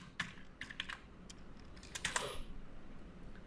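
Someone typing code for WordPress on a computer keyboard: irregular clusters of crisp key clicks, close and fairly quiet, with no talk.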